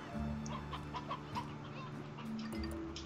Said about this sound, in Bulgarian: Кажеш, че петли гониш.